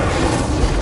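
A single loud, booming fiery burst from an Incendio spell in Hogwarts Legacy, a brief full-bodied whoosh with a deep low rumble.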